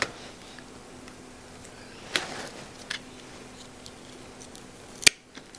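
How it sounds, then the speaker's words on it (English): Scissors snip away rotten anthurium roots during repotting, giving a few sharp, isolated cuts spaced seconds apart against a quiet room, the last snip loudest and closest. "I'm gonna cut off all of these rather shit looking roots"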